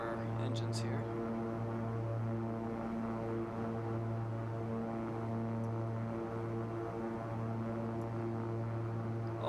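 A King Air C90B in X-Plane 11 drones with a steady turboprop engine hum and layered harmonic whine, unbroken and close throughout, with a voice speaking over it.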